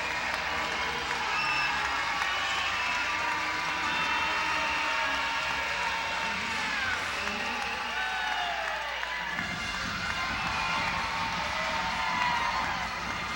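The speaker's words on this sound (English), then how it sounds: "Crowd starting to come on now, being encouraged" Basketball arena crowd at the NBL Canada Finals, Halifax Hurricanes versus London Lightning, roaring with sustained cheering and applause throughout, a dense continuous wall of noise that swells slightly near the end.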